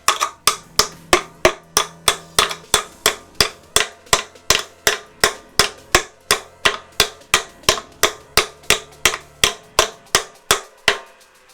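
Multi pliers bang repeatedly on something hard, a steady run of about two dozen sharp, loud metallic knocks spaced roughly half a second apart, each ringing briefly, with no talking.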